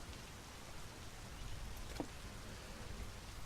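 Steady rain falls in the driving game My Summer Car, a soft, even hiss heard faintly throughout with no talking.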